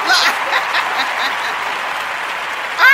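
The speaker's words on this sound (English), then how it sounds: "You know I got a little round of applause back there." Clapping from an audience runs steadily throughout, moderately loud, with a brief burst of cheering or a whistle near the end.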